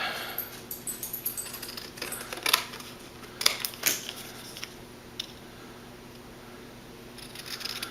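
Scissors snipping out a small dimensional paper topper for a Christmas easel card, a run of short, crisp cuts that thin out into quiet near the end.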